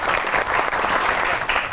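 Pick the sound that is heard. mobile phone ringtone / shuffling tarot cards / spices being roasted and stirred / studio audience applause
studio audience applause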